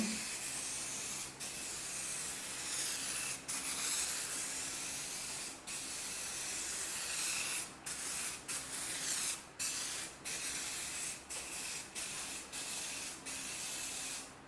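Black guide coat sprayed from an aerosol can onto car subframe connectors, a steady close hiss broken by short pauses between passes, with the bursts growing more frequent toward the end.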